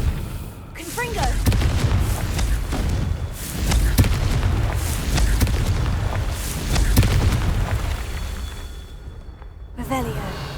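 Confringo blasting spells in the Hogwarts Legacy video game, during a Merlin trial, boom in a run of loud explosive bursts over rumbling game sound, with a quieter gap near the end before another blast.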